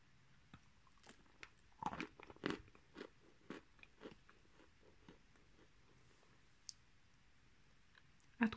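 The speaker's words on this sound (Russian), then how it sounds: "Откусывается легко." Bites and chews of light Bashkir edible clay of medium density, heard up close as a handful of soft crunchy clicks and mouth noises spread across a quiet background, with no talking.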